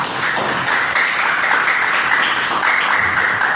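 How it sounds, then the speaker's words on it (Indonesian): Steady clapping from a class of students in an Indonesian lesson, loud and dense, filling the whole stretch with no talk on top. "Tepuk tangan dulu semua."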